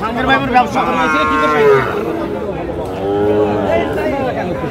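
A young Sahiwal bull calf moos twice, long and drawn out, close by, while people chatter in the background.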